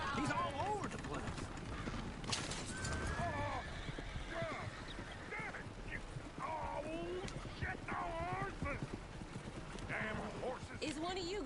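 Hooves of a horse-drawn coach clip-clop steadily in Red Dead Redemption 2, blended with wheel and harness rattle, a whinny and other game ambience, with voices speaking over much of it.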